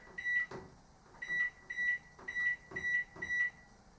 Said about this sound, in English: Now all microwaves are different of course